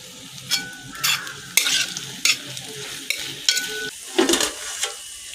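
Garlic and curry leaves frying in hot oil for chicken biryani, with crackling sizzle and repeated metal stirring clinks of a spoon against the pan, close and loud, no talking.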